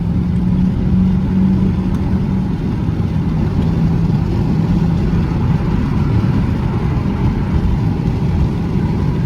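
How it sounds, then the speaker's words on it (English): A 2002 Mercedes E55's engine and X-pipe exhaust drone steadily at close range, a deep, continuous rumble with no pauses and no voices. "the exhaust note with the X pipe, other than that factory exhaust, sounds pretty solid too"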